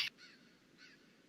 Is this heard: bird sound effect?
yes